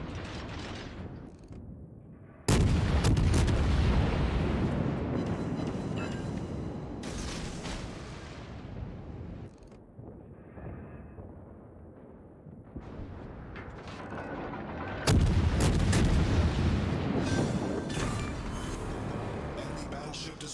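Battleship main-gun salvos in the World of Warships game, deep booming blasts with long rumbling tails, one loud burst near the start and another later, under steady mechanical noise, with talk over the action.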